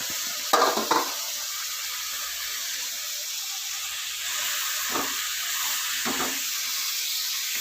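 Mint leaves are stirred into green chilies and tomatoes in a pan, giving a faint, steady sizzling hiss with a few soft scraping stirs, no voices.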